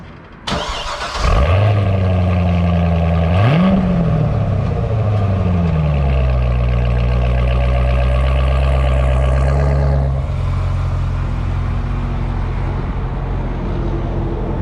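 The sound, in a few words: ZR1 Corvette backing out for a test drive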